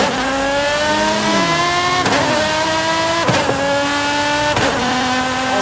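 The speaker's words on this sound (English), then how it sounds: "it sounds especially cool if you're accelerating in a high gear and then you shift down" Car engine in Forza Horizon 5 climbing steadily under acceleration, its pitch dropping sharply at each downshift before rising again, loud and close with no voices over it.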